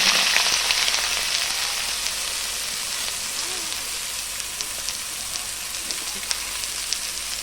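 Potatoes and onions dropped into hot oil tempered with black cumin in a wok, giving a loud, close, continuous sizzle that settles into a steady hiss with scattered small crackles.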